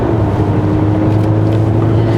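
A 2021 Kia Sorento 2.2 diesel 4WD pulls hard on a winding road, its engine droning low and steady inside the cabin as the automatic gearbox shifts down under acceleration.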